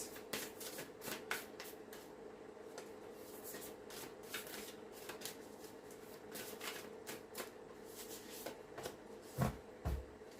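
Oracle cards being shuffled by hand, a steady run of soft riffling card slaps and rubs up close, with a couple of low thumps near the end.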